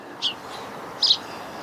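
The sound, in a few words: birds chirping in spring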